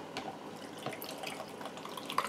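Leftover soup broth poured carefully into a canning jar, heard as light trickling and scattered drips close by with no talk.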